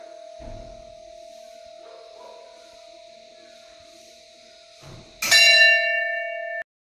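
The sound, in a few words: bell ringing while a prayer wheel turns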